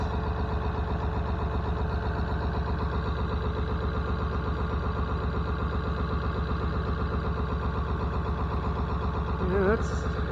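A Ford F600 truck engine runs at a steady idle, a loud, continuous low rumble with an even pulsing rhythm that holds throughout, with a brief extra noise near the very end.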